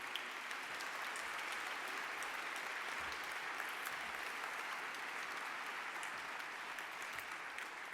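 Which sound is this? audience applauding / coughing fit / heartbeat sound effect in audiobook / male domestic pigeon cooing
audience applauding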